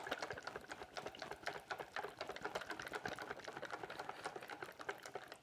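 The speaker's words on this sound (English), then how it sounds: "So we're going to whisk really well." A whisk beats honey, mustard and mayonnaise into a dressing, giving a steady run of quick, close scraping clicks against the bowl that continues without pause and with no voices.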